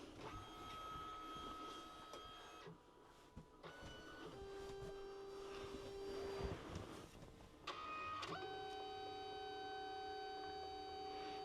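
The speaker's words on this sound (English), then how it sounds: "Right now it's printing yellow" A Liene PixCut S1 photo printer printing its yellow pass, with steady whirring motor tones and shifting mechanical hums, short pauses and a louder stretch near the end, heard alone at a fairly quiet level.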